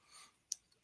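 A single sharp mouse click saving settings in industrial boiler data software, brief and close, with faint room tone before it and a couple of softer ticks after.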